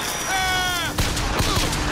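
Gunshots in a video game: a few sharp, loud cracks fire in quick succession after a short electronic tone, close and punchy.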